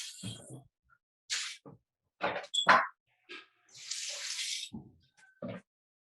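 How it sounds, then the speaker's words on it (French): Running tap water rinses dried white beans in a kitchen sink, arriving in several separate bursts of splashing flow with short quiet gaps between them, close and fairly loud. "je vais rincer les haricots"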